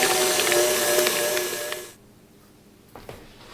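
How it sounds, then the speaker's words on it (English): Stand mixer whirring steadily through banana bread batter with hazelnuts and raisins, loud and close, then switching off into near silence with a couple of small clunks. "we're done mixing with the stand mixer"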